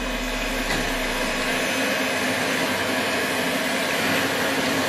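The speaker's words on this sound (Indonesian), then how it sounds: "Terus kita mixer sampai kental." An electric hand mixer whips cream for homemade gelato, a steady, close motor whine holding constant throughout with no talking.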